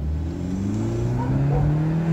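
Car engine fitted with an aftermarket downpipe exhaust revving up, a close rising drone that climbs in pitch over about two seconds.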